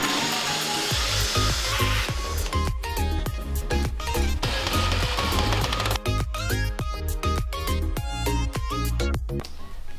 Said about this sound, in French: Donc là on fait un petit trou dans le meuble pour pouvoir passer le tuyau d'évacuation de la machine à laver.